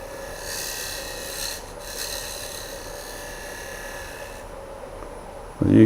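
A woodturning tool shaves curls from a wooden bowl spinning on a lathe, giving a steady, soft rasping hiss over a faint motor hum. It runs evenly throughout and ends with a brief louder knock.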